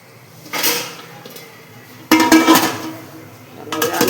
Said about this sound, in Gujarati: ચાલો હવે આને માથે ઢાંકણ ઢાંકી દઈ